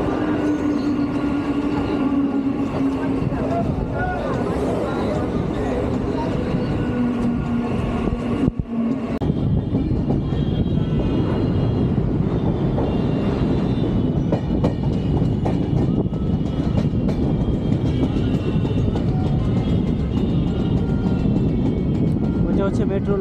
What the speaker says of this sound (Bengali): দক্ষিণেশ্বর থেকে ছেড়ে যাচ্ছে আমাদের ট্রেন